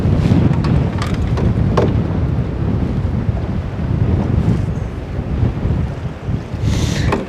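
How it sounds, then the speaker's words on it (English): Strong wind buffets the microphone at a trout-fishing spot, a constant loud roar with gusty low rumble and a few brief knocks, no voices. "this is the trouble with fishing in high wind"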